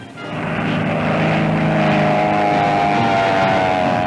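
An airplane engine roars during a 1940 test flight attempting a speed record for its class of plane, a loud, steady drone that swells in the first half-second and then holds, with no voices.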